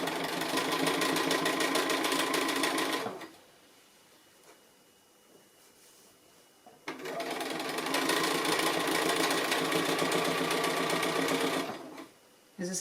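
A sewing machine stitching a seam with white thread runs in a loud, rapid mechanical whir for about three seconds, pauses, then starts again for a longer run before stopping briefly and restarting.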